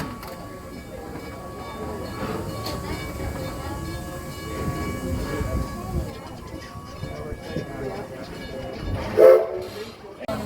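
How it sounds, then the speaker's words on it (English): Rumbling coal-fired steam train with rail clatter, then a short steam locomotive whistle blast near the end, heard over background murmur and people talking at Greenfield Village. "Please stay seated, everybody, till you hear that whistle blow."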